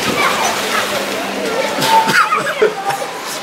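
A cheap small shisha with carbonated water bubbles and sloshes in quick wet gurgles and splashes, fairly close, with voices talking in the background.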